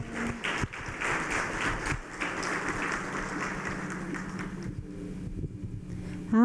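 Church congregation applauding the Lord during a worship service, a dense steady patter of clapping that carries on for several seconds, then thins and drops away near the end.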